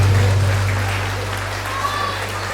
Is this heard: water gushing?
no